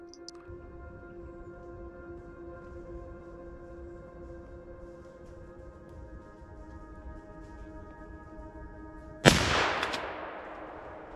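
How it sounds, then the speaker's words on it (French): A single loud rifle shot rings out near the end, fired at a roe doe during a winter driven hunt for boar and deer, following a long stretch of steady low background hum with no talk. "mon voisin tire une chevreuse"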